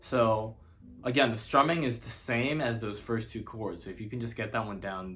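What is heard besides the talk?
None of the usual background noises is heard.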